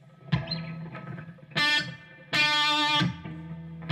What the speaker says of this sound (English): now I switch to the lead channel and add a little bit reverb to it